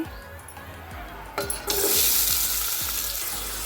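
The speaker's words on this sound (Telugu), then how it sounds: "ఉల్లిపాయలు అనేది వేసేసానండి నేను ఉల్లిపాయ కట్టించి కరేపాకు ఒకసారి అలా తిప్పేసుకున్నానండి" Onions and curry leaves hit hot oil in a pan while ridge gourd curry is being made. A sudden loud sizzle erupts and keeps hissing steadily, after soft, regular stirring thumps.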